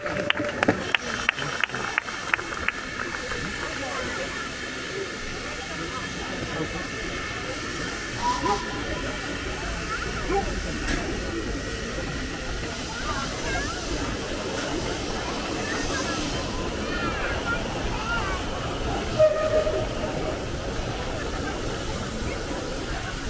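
Steam locomotive restored to working order, pulling out on a site excursion run at a depot event, with steady broad hissing steam throughout, a few sharp clanks early on and a distant announcer-like voice beneath.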